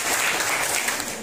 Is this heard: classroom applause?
yes